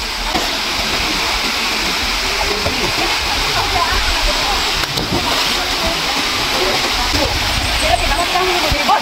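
A mountain stream where a family bathes, with loud continuous rushing, splashing water filling the whole scene and voices faintly mixed into the steady roar.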